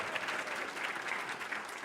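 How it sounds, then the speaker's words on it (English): At a congressional town hall, the audience applauds a city council member, a short burst of fairly faint, even clapping heard from a distance with no talk over it. "Give a round of applause to Deborah, City Council Member Deborah Lewis"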